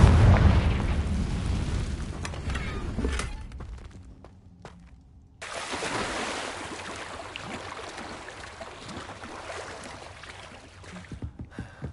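A Confringo fire spell explodes in the Hogwarts video game: a loud blast opens, rumbles and fades, then a second sudden burst hits midway and settles into a sustained roar with scattered crackles.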